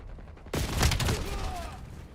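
A burst of rapid gunfire in a video game shooter match, a sudden loud volley of shots that starts abruptly and trails off with ringing echoes.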